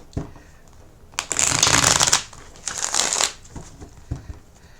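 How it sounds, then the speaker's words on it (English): Tarot cards being riffled and laid down, two bursts of crisp, close shuffling followed by soft taps and slaps as cards are set on a surface. "let's go ahead and put these cards down"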